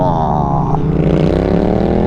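A Kawasaki Z650 with a newly fitted exhaust revs up close by, its engine pitch sweeping steadily higher in one long, loud rising pull.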